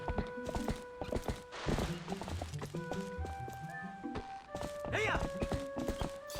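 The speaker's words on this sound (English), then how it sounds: "I'm having a hard time driving my horse." Horse hooves clip-clopping in the video game Twilight Princess, rhythmic steady hoof beats with a neigh near the end, over game music and tones.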